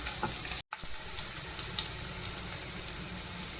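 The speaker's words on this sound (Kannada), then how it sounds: "ಶುಂಠಿ ಒಂದು ಸ್ವಲ್ಪ ಕಟ್ ಮಾಡಿ ಫ್ರೈ ಮಾಡೋಕ್ಕೆ ಹಾಕಿದ್ದೀನಿ. ಈಗ ಬೆಳ್ಳುಳ್ಳಿ ಹಾಕ್ತಿದ್ದೀನಿ." Ginger and garlic fry in a pan for a mushroom roll, giving a faint, steady hiss of sizzling oil. The sizzle cuts out for a moment near the start.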